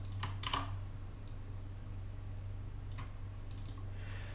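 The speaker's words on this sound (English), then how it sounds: "press Ctrl C on our keyboard and Ctrl V to paste it" Copy and paste shortcuts are pressed on a computer keyboard while working in SolidWorks CAD, a few sparse, quiet key clicks in small clusters over a low steady hum.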